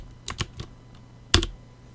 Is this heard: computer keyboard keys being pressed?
yes